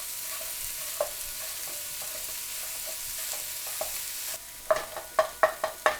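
Corned beef hash fries in a pan with a soft, steady sizzle, and a run of sharp spatula taps and scrapes near the end.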